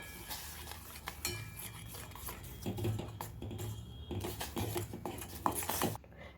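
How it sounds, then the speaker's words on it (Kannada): A spoon stirs roasted ragi flour into just-boiled water in a pot, making soft, irregular scraping and clinking against the metal, close and fairly quiet, with no talking. "ಹಾಕಿ ಇದನ್ನು ನೀಟಾಗಿ ಮಿಕ್ಸ್ ಮಾಡ್ತೀನಿ."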